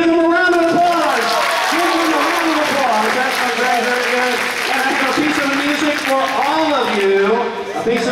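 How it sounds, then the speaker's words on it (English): An audience at a Sacred Heart gathering claps steadily in a dense, loud wash of applause lasting throughout, with music and a voice carrying over it, tapering slightly at the very end. "give them a round of applause"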